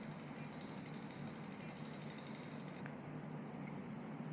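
E-bike motor whirring steadily in power-assisted push mode, a continuous mechanical gear-and-ratchet drone that runs throughout, its high whine cutting out partway while the lower hum carries on.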